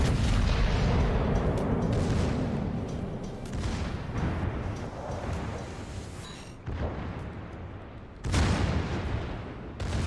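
An American warship's secondary guns fire in World of Warships, a dense barrage of booming shots rolling in repeated bursts, loud and continuous with short lulls between volleys.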